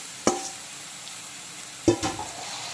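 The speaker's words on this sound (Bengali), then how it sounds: "এখন বেশ কিছুক্ষণ লো টু মিডিয়াম আছে মাংসটাকে ভালো করে কষিয়ে নেব" Country chicken sautéing on low-to-medium heat with dried red chillies in a village-style curry pan, with two sharp stirring scrapes over a faint, steady sizzle and no voices.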